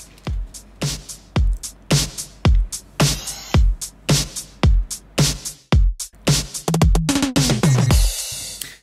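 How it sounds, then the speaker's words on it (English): A synthwave drum beat intro made in Bitwig Studio, with punchy kick and snare hits in a steady rhythm, close and loud, building into sustained synth tones and a bright noise swell near the end. "So we have a little beat going in the beginning."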